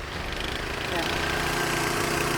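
A small engine, with an adjustable throttle and a low gear, hums steadily throughout, a mid-pitched drone that builds slightly partway through as it is revved.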